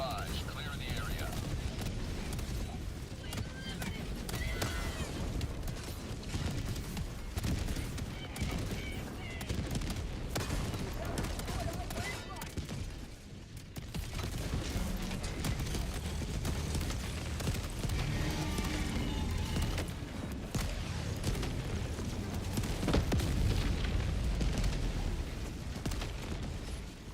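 Dense, continuous barrage of explosions and gunfire from an orbital strike in a video game, a rumbling wall of booms lasting throughout with occasional voices underneath.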